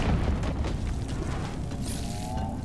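Explosives break something open in the online game Lord of the Rings Online, a deep, dense boom that rolls on as a steady low rumble for nearly three seconds without fading.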